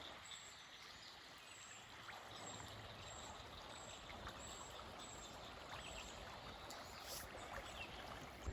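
Creek water flows steadily along a forest hiking trail on a breezy day, a soft continuous rushing trickle that stays even and moderately close throughout, with no voices.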